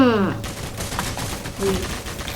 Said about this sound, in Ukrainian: мене стріляють